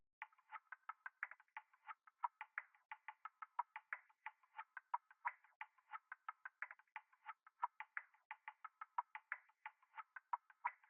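A simple percussion loop from the Flowers kit plays alone, a dry, evenly spaced run of short clicky hits in a steady rhythm, quiet and up close against silence.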